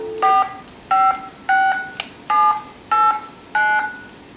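Touch tones dialed on a telephone test set (butt set), six crisp evenly spaced DTMF beeps, loud and close with nothing else in the background.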